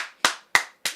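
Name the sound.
hand clapping applause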